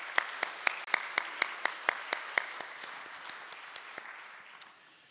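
Church congregation clapping in thanks for the worship team during a Sunday service, a sparse, fairly faint round of claps with individual hand strikes audible, thinning out and fading over about five seconds.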